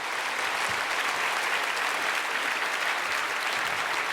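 A church congregation at a Korean dawn revival service claps to welcome a visiting pastor. Dense, steady applause fills the whole stretch, loud and close, with no pauses.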